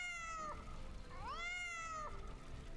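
A cat in a video game meows twice, a rising-and-falling cry followed by a longer drawn-out meow, close and clear over a quiet low background.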